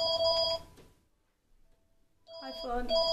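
A telephone rings in a Minecraft game on Xbox, two bursts of bright repeating electronic trills separated by about a second of near silence, loud and close with no talk over it.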